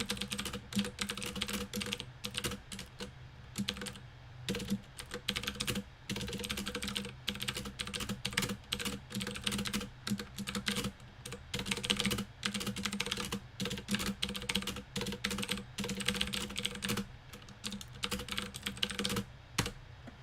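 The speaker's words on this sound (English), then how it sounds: "Let me just type it in for later." Steady typing on a computer keyboard, a continuous run of quick close keystrokes with brief pauses, played alone without any talk.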